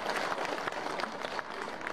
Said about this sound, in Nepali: जोरदार ताली बजाउनुस् ल